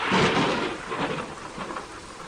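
A storm with deep rolling thunder over steady pouring rain, a loud rumble swelling at the start and fading into a continuous rain hiss, with no voices.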